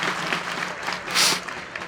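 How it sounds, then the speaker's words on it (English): At a fall commencement ceremony, the audience gives a crowd's steady round of applause, with a brief swell of louder clapping partway through. "A big round of applause for everyone joining us"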